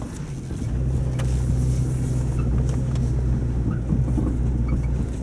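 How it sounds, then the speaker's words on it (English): Low, steady rumble of a four-wheel drive vehicle driving along a test track while support vehicles for motorcycles are being tested, heard from inside or close by with some wind buffeting and no talking. "so we're getting now back out onto this track where we watched Nay drive up"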